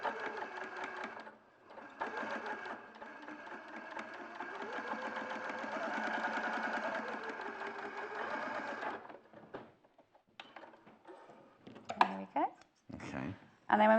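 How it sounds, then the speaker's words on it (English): A sewing machine stitches a curved seam, its steady motorized whir running for several seconds before stopping, followed by quieter handling sounds while people talk nearby. "you're just stitching all the way round, well, not all the way round the curved seam"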